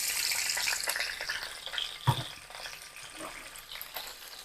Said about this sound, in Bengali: এই ফুলকপিটাকে আমি একটু তেলে ভেজে নিব।